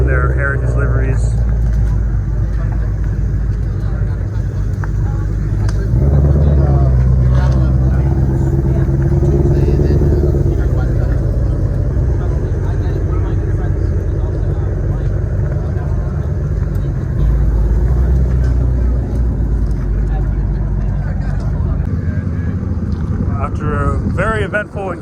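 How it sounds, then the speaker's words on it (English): Supercars at a Kent Island cars-and-coffee meet rumble and start up together, a loud, low engine drone that swells as they get going, heard under wind buffeting with people talking throughout. "all the cars are getting started up and it's time for us to get ready to head out ourselves"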